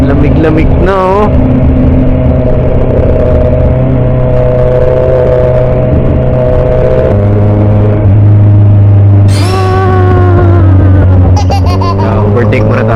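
Kawasaki Ninja 1000SX engine droning on a cold, drizzly ride, then pitching up as it accelerates to overtake, with voices and laughter over the rumble.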